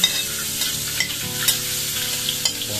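Oil sizzles steadily in a wok as garlic, onions and chillies are stir-fried, with a close, constant hiss and light clinks of a utensil stirring.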